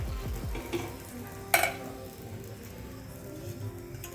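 Moong dal yedani batter cooks in an oiled pan, a soft sizzling hiss with a sharp metallic clink of a utensil partway through, close and without speech.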